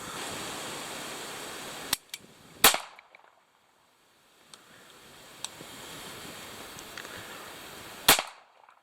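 A Bruni New Police 9mm PAK blank pistol goes off by accident with a sharp, loud crack, followed later by a second sharp report, with clicks and a steady hiss of background noise between them.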